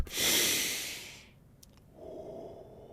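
One deep, slow breath drawn in close up with a long airy rush, a brief pause, then a softer, lower exhale.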